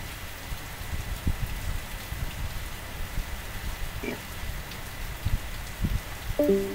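Rain falls steadily outdoors, making a broad hiss with scattered nearby drips and patters on surfaces. A few faint knocks and a short tonal blip come near the end, and no one speaks.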